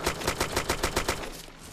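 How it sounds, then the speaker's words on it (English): Rapid automatic gunfire in the DayZ video game, a burst of about ten evenly spaced shots, loud and fairly close, cutting off abruptly. "I hear shooting."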